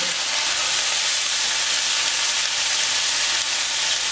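Garlic and onion frying in a pan give a steady, loud sizzling hiss that holds evenly throughout, close up, with no voices.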